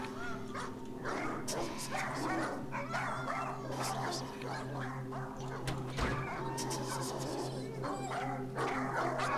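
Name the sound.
dog barking and whimpering in a video game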